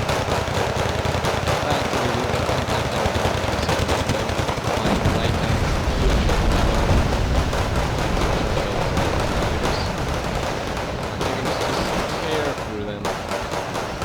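Gunfire in the real-time strategy game Wargame Red Dragon, a continuous chatter of machine guns and rifle shots with heavier bangs mixed in, loud and unbroken, while a voice narrates over the battle.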